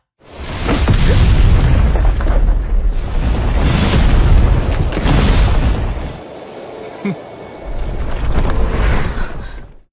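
An animated power explosion from the Battle Through the Heavens series hits as heavy, roaring booms in several loud surges, with a brief dip and a rumbling swell near the end.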